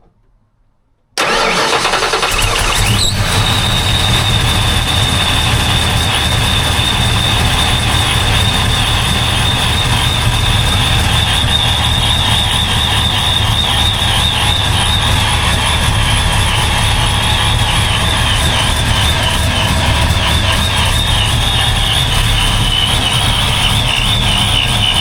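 A 347 stroker engine cranks and catches after a second of quiet, then roars loud and continuous while tires spin with a high squeal layered over the engine drone.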